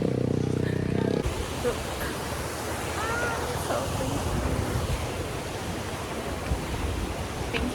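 Sea waves wash onto a beach in Cebu, a continuous close surf hiss with wind buffeting the microphone, following a brief different sound at the start.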